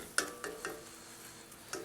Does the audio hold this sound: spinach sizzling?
yes